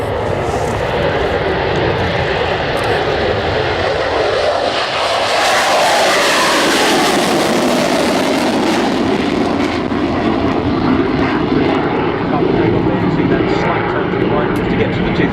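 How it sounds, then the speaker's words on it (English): A General Dynamics F-16AM Fighting Falcon jet rolls for takeoff at an airshow, its engine a loud, sustained roar that swells and sweeps in pitch as it passes, with no speech over it. "Rolling now, the General Dynamics F-16AM Fighting Falcon."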